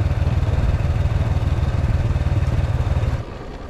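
A motorcycle with stiff suspension rides a rough road near Angat Dam in Bulacan, its engine a loud, steady drone with rattling clatter throughout, easing off abruptly near the end.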